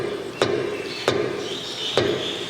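Crank-driven cup of a soil liquid limit device dropping onto its base, three sharp distinct taps at an uneven pace, close, over a low steady background hum.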